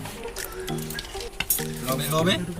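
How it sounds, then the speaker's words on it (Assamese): Potatoes and onions fry in oil for a Bengali chicken curry, giving a crackling sizzle with some clinks and stirring. A voice talks over parts of it, and the sound grows louder toward the end. "আলু পিঁয়াজ তেলত ফ্ৰাই কৰিছে"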